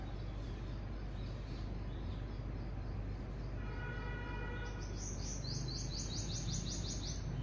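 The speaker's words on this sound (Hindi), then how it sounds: "जैसे चिड़िया चहक रही हैं" Outdoor birds chirp in quick repeated trills over a constant low rumble of background noise, moderately faint and somewhat distant, with no talking.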